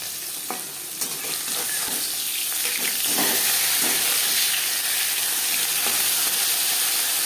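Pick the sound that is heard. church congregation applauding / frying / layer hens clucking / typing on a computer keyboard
frying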